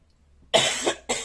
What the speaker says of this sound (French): Excusez-moi, c'est la toux